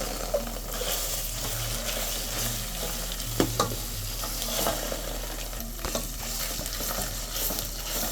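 Sliced onions and bay leaves frying in vegetable oil in a pot, a constant close sizzle under occasional spoon scrapes and taps, with a low steady hum underneath.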